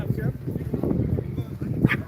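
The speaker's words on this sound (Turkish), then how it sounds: "Burada böyle küçük köpekler var." Small dogs yipping and barking in short bursts close by at a dog competition, with a person's voice mixed in among the sharp little barks.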